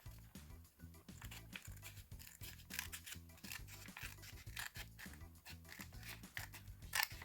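Quiet, rapid snipping of scissors with a steady rhythm of short crisp cuts, close by, with no talking.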